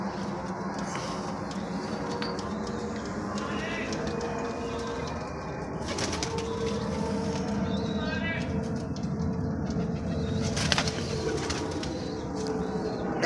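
Pigeons for sale at a roadside dhaba coo steadily throughout, with occasional wing flaps and shuffling, close and fairly loud against a busy outdoor background, with someone talking at times over them.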